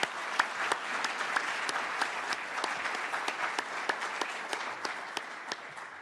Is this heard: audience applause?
yes